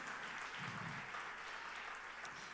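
A church congregation at a Spanish-language sermon gives a short burst of applause, soft and somewhat distant, with steady clapping filling the brief moment.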